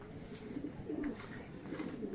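Racing pigeons in a home loft cooing softly, several low throaty coos overlapping in a faint, close, continuous murmur with light background rustle and no speech.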